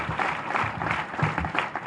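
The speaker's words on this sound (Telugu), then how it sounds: "ఆ స్కూల్ వాళ్ళకి ఒకసారి గట్టిగా క్లాప్స్ కొట్టండి ఒకసారి." A gathering of students and parents at a school program applauds a high school: a steady burst of crowd clapping, moderately loud and close, rising and falling slightly over two seconds.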